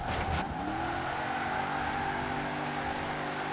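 A Ford F-150 pickup in the Forza Horizon 4 racing game accelerates, its engine tone climbing early and then holding a steady, loud drone with a thin high whine on top, with no talk.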